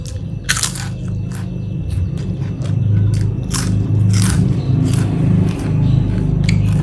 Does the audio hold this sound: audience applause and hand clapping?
no